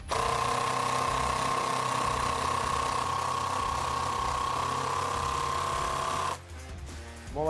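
Ryobi R18IDBL 18V impact driver on second speed driving large 5x80 screws, a loud continuous whirring, hammering buzz held steady for several seconds, then stopping abruptly and followed by a few short bursts.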